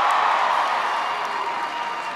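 A campaign rally crowd cheers and roars in a dense, steady wash of voices, loud and continuous with a slight fade toward the end, with no single voice standing out.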